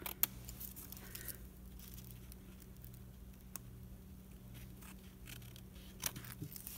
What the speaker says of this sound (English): Just grab my scissors and just cut that right off.